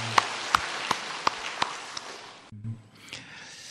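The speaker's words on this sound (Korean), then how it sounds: "하나님께 영광의 박수 올려드립니다." Clapping during a Korean church Sunday service. Six crisp, evenly spaced claps sound in a slow rhythm, fading slightly before a brief cut and some softer muffled noise.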